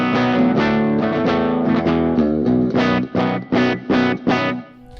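A heavily distorted electric guitar through a high-gain Titan amp plays sustained chords, then chops into short punchy stabs with brief gaps, loud and saturated with a roomy tail.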